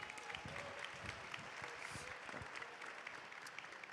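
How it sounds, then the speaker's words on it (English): Audience applause for honorees at a university alumni gala, a dense continuous clatter of many clapping hands heard from some distance, quiet overall with a slight crowd murmur. "One more round of applause, ladies and gentlemen"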